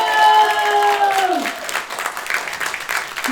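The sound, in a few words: audience applause for the production team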